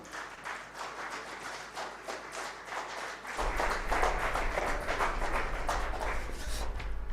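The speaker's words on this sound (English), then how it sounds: "Can we welcome him with a huge round of applause, everybody?" Audience applause welcoming Lenskart co-founder and CEO Piyush Bansal onstage, rhythmic massed clapping that swells louder partway through as more hands join, with a low rumble underneath and no speech.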